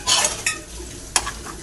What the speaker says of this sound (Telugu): ఆయిల్ వేడెక్కిన తర్వాత పోపు దినుసులు వేసుకున్నాను